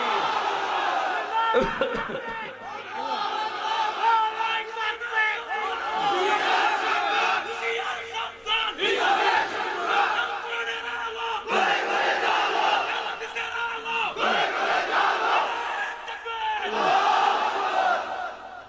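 Crowd at a Bangla waz gathering shouting the takbir "Allahu Akbar" in unison, several loud collective bursts repeating in waves, with a lead voice calling between them.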